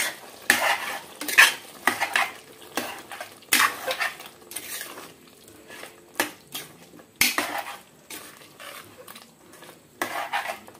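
A spoon stirs yogurt into chicken curry in a pan, making repeated scraping strokes and metallic clinks against the pan in an uneven rhythm over a faint low sizzle.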